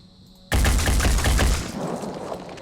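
Gunfire in the video game Phoenix Point: a sudden loud burst of rapid automatic shots that cuts in abruptly and rattles on for about a second before tailing off into a fading rumble, with no voices.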